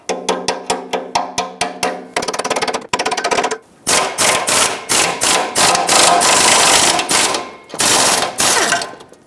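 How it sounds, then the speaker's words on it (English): Sharp metallic hammer taps ring out in a quick, even series, driving a socket onto a rusty exhaust manifold bolt on a 2012-2017 Toyota Camry, then give way to denser, rapid clanking and banging strikes, loud and close. "might have to tap it on with a hammer"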